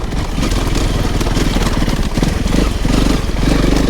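A Honda CRF300 Rally motorcycle engine runs loud and close on a rough trail lane, a continuous chugging drone with slight rises and dips in revs.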